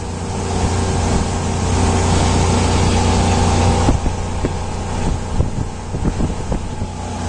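A 1999 Sea Ray 270 Sundancer powers along at wide open throttle, around 3,500 RPM and 25 knots, with a steady loud engine drone and rushing wind and water noise throughout.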